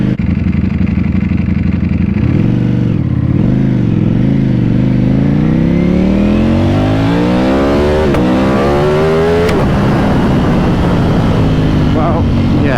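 A 2018 Ducati Panigale V4S pulls away and accelerates hard at full throttle through the gears. The loud, close engine note climbs steadily in pitch with sharp breaks at the shifts, and a voice is heard over it.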